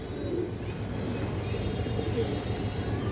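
Ring-eyed pigeons from a Giribaz high-flyer collection coo faintly under a constant loud background hum, with thin higher calls recurring throughout.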